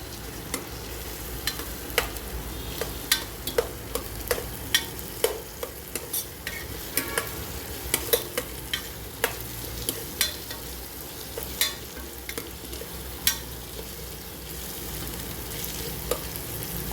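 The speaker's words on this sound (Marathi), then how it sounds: "थोडा वेळ तेलात परतून घ्यायचा आहे मसाला।" Masala sautéing in hot oil with Kolhapuri chilli powder in a pan for a brinjal dish, a constant close sizzle punctuated by regular sharp taps and scrapes of a spoon stirring.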